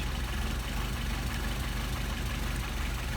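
Mercedes 190SL engine with Solex carburetors idling at 600 rpm, a steady, close, low mechanical rumble with an even, rapid pulse and no talk.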